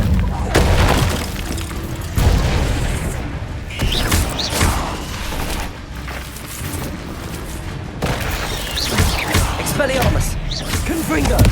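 Repeated Confringo fire-spell explosions in Hogwarts Legacy, heavy booming blasts and crackling bursts in quick succession during combat, loud and dense, with a voice calling out over them.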